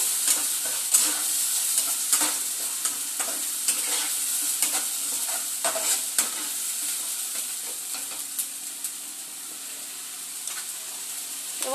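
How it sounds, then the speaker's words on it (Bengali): Chili and ginger spice paste with whole cumin sautéing in a hot pan, giving a steady close sizzle with repeated scraping stirs throughout and no talking. "মশলাটা খুব ভালো করে কষিয়ে নেব মশলা থেকে কাঁচা গন্ধ না আসে"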